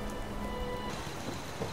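Steady rainfall in Fallout 76 fills the scene as a dense, even hiss of drops on surfaces, heard alone and fairly close without any voices.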